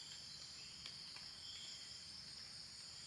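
Insects buzzing in a steady high-pitched drone around a campsite in the morning, faint and continuous.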